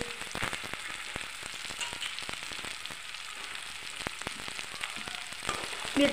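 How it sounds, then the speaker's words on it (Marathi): Potatoes for sabudana khichdi fry in a pan with a steady, fairly quiet sizzle, broken by sharp little crackles and spatters throughout, with a louder pop near the end. "आलू व्यवस्थित भाजून घ्यायचा"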